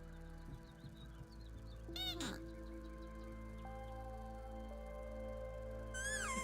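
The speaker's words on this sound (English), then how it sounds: "the moth sounding like a squeaker toy" Moth sounds from the game Grounded, squeaky toy-like chirps in a few brief bursts, one near the middle and another at the end, over a quiet, steady electronic hum with faint tonal background sounds.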